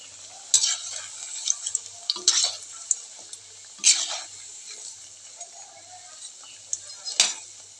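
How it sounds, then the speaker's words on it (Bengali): Puli pitha sizzle softly in hot oil in a home kitchen, broken by repeated clinks and scrapes of a utensil stirring and turning them in the pan. "আর এখানে যে পুলিগুলো এখন ভেজে নিচ্ছি।"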